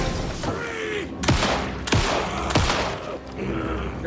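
Three sharp, loud gunshots spaced roughly half a second apart in the video game Alan Wake 2, each a short close crack over a low ambient game bed.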